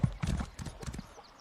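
Hooves clip-clop in a quick galloping rhythm as a horse runs in the video game Elder Scrolls Online, close and brief.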